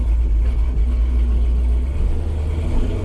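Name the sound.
car driving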